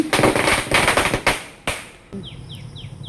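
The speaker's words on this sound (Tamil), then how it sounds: "பட்டாசு வெடிச்சிருந்தாங்க அவங்க." Firecrackers burst during a Diwali celebration, a loud rapid crackling string of pops followed by a few sharp single bangs, then a quieter stretch with faint chirping.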